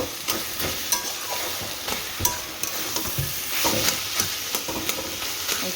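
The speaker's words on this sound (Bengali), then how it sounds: "ঝিঙ্গা ভাজা হচ্ছে, আর এখনো অনেক হবে, জল ছেড়েছে" Ridge gourd sizzles in a pan as it fries and releases water, with a steady hiss broken by repeated scraping and clattering stirring strokes close by, with no talking.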